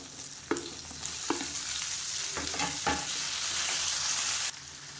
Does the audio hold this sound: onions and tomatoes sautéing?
yes